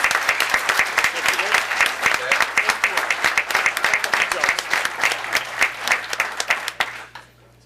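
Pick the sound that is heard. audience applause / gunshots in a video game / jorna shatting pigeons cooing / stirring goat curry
audience applause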